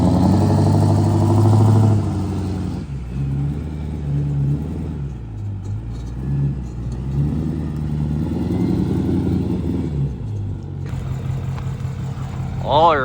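A rebuilt 6.4L diesel engine runs through break-in with a deep, loud rumble and shifting engine tone, a few rev changes, and people talking over it.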